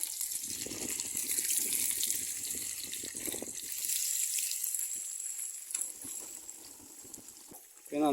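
Sardines rubbed with turmeric and salt drop into a hot pan of coconut oil, giving a rushing, bright sizzle that swells and settles, with quieter clinks and a sharp scrape near the end.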